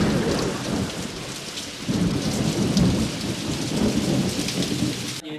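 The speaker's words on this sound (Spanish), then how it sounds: "Y encima esto, la lluvia pertinaz." Heavy rain pours down steadily with rolling thunder swelling through the middle, a loud, continuous storm effect used in a comedy sketch, with no voices over it.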